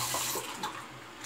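A tap runs briefly into a sink, rinsing after a wet shave with a tallow shaving soap, a soft, close splashing trickle lasting about a second.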